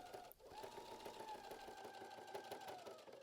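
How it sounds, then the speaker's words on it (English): A sewing machine runs steadily, edge stitching around the bottom of a baby dress bodice, a continuous close whirring hum with a rapid needle rhythm and no pauses. "We're going to sew an edge stitch all the way around the bottom of the bodice."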